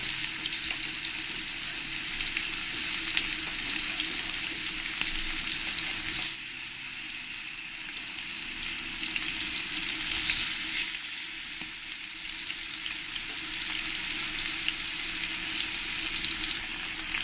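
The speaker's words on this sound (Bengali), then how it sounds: "আমি একটু কড়া কড়া করেই ভেজে নিয়েছি মাছগুলো" Pomfret fish, rubbed with salt and turmeric, fry crisp in hot oil, giving a steady, dense sizzle that continues throughout, dipping slightly partway through before picking back up, with no voices.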